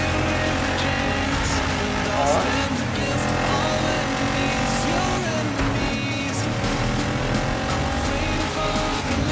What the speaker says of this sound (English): We're driving our green tractor in Greece.